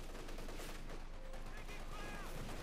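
Machine gun fire in Company of Heroes 2, with steady crackling bursts from .50 caliber guns set back in a dense, noisy battle mix with faint voice traces.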